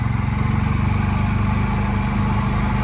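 Mower cutting golf course grass on an approach area, a loud, close engine drone with a fast, steady pulsing throb and no talk.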